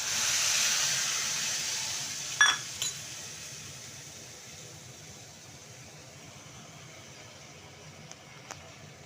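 A tomato, ginger and green chili paste hits a hot pan with a strong hiss that fades steadily, with a couple of light clinks along the way.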